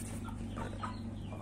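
Arbor Acres broiler chicks in a farm shed give soft, scattered clucks and peeps over a steady low hum, faint and without voices.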